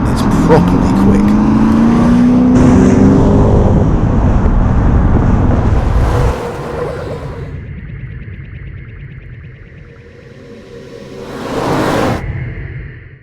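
A Lotus sports car fitted with a swapped-in Lexus V8 making 336 horsepower and revving to 7,000 RPM, roaring loudly as it accelerates, then easing off into a quieter hum before a second rising surge of engine noise near the end.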